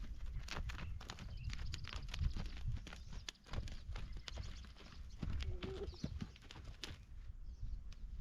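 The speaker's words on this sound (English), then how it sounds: "as I'm riding Charlie around here, you can see his body is getting softer" A ridden horse's hooves clip-clop steadily at a walk across an arena, a continuous rhythmic patter at moderate distance with faint outdoor ambience and no talk.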